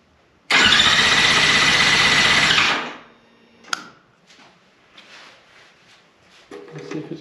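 A 2004 Yamaha R6 sport motorcycle cranks loudly and steadily for about two seconds, then the starter cuts off without the engine catching; a sharp click follows, then faint handling noises and light shuffling.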